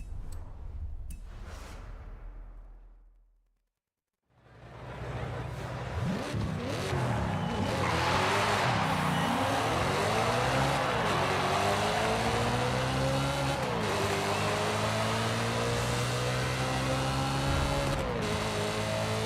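Race car in Forza Horizon 5 accelerating at very high speed, engine note climbing and shifting steadily through gears, loud and continuous after a brief silent gap near the start.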